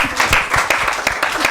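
A children's show audience claps briefly, a burst of uneven, fairly loud handclaps close by with a hint of voices mixed in.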